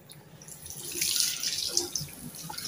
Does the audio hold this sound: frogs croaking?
no